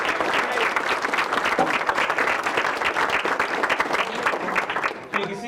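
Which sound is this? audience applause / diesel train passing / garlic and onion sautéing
audience applause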